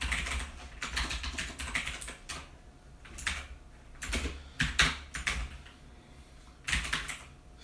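Someone types Kotlin code on a computer keyboard. Bursts of rapid clicking keystrokes are separated by short pauses, close and fairly quiet, with no voice over them.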